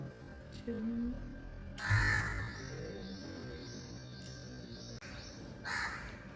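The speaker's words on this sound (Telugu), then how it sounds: "బ్యాక్గ్రౌండ్ మ్యూజిక్ అవసరం లేదు, కాకులు కూడా మా ఇంటి దగ్గర." Crows near a house caw in a few short, harsh bursts, moderately close but fairly quiet against soft background noise.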